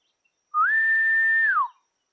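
A person's single sustained whistle to call a horse, rising quickly, holding one steady pitch for about a second, then sliding down, alone in silence.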